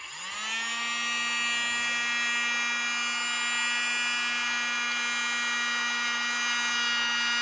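Small USB mini desk vacuum whirring up to speed and then holding a steady, thin motor whine with a bright buzzy tone, close and continuous with no talking.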